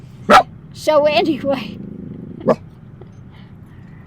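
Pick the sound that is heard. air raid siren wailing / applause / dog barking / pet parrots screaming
dog barking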